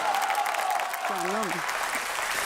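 Applause from a studio audience at a talent show after an Azerbaijani folk song, a dense continuous wash of clapping with a brief sung or spoken vocal line rising above it.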